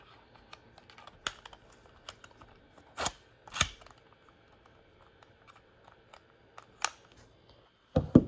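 Mechanical clicks and ratcheting from a Canon VI-T rangefinder camera as its shutter is cocked: a few sharp, close snaps stand out over quieter handling ticks, with no talking.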